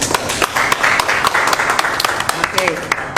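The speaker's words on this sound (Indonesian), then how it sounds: "Niko Irham, guys, tepuk tangan dong semuanya." Audience clapping for a guest on an Indonesian talk show, a burst of scattered handclaps heard under ongoing speech from the hosts.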